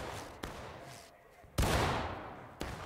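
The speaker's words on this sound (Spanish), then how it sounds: "Los tiros, que cerca. Estoy recibiendo mucho fuego, enemigo." Nearby gunfire in the Civil War-era video game War of Rights, with a few sharp, loud musket-like shots punctuating a quieter battlefield background.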